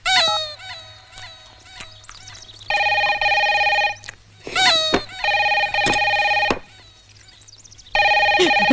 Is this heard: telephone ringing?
yes